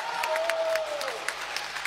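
Applause fills the congress chamber as a diffuse, steady wash of clapping from a crowd, moderately loud and continuous throughout.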